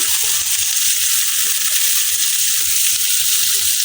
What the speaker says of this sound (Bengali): এর তেলের মধ্যে আমি দিয়ে দিচ্ছি পেঁয়াজ কুচি পেঁয়াজগুলি আমি ব্রাউন কালার করে এখন বেজে নেব